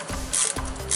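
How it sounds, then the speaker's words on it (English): A ratchet with an extension tightens the oil drain plug on a Mercedes W163 ML, making close, loud rapid clicking strokes in quick repeated bursts. "the ratchet with extension is the most convenient way to go"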